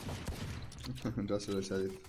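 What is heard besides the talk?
pistol gunshots from a video game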